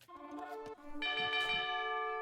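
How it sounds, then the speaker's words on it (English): Town bell rung in the Age of Empires 2 strategy game, a bright bell-like chime with stacked ringing tones that starts partway through and sustains loudly to the end, following a softer tonal sound. "And the town bell has been rung."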